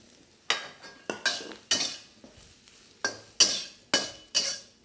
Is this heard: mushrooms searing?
yes